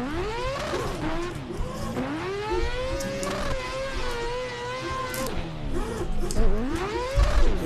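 A 4-rotor Toyota Supra A90 mod in Assetto Corsa revs hard, its high buzzing rotary engine note rising and falling through gear changes, loud and close with a tire scrub near the end.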